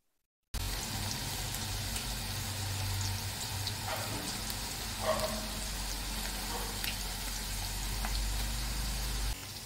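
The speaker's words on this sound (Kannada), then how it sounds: "ಕಾದಿರೋಂಥ ಎಣ್ಣೆಗೆ ಈ ರೀತಿಯಾಗಿ ಬೆಂಡೆಕಾಯಿಗಳನ್ನ ಬಿಡಿ ಬಿಡಿಯಾಗಿ ಹಾಕ್ಕೊಳ್ಳೋಣ" Okra pieces dropped one by one into hot oil for crispy bhindi fry, giving a steady broadband sizzle and bubbling that runs throughout with a few soft splashes and no voices.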